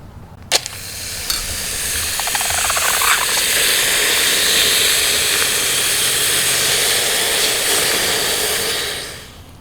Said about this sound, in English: we're gonna go ahead and throw it in the ice bath